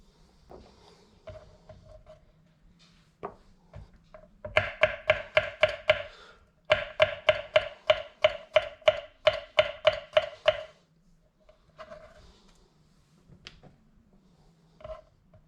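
Garlic chopped with a knife on a board for a stuffed rump roast: two fast bursts of rapid, even, close knocks of the blade, with a few scattered taps before and after and no talking.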